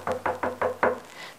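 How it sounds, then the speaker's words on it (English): A knocker bangs on a large cave door five times in an even, rapid series of heavy, close thuds, with no voices. "She took hold of the knocker and banged on the door."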